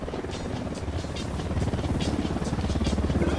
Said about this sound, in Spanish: Un helicóptero de la unidad.